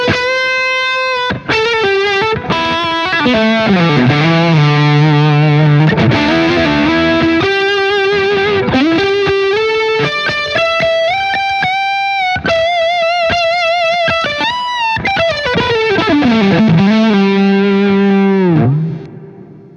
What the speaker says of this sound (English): So this one is a cool, useful distortion pedal.